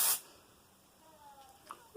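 An aerosol can of hair volume spray releases one short, breathy hiss at the start, followed by near silence and faint movement sounds.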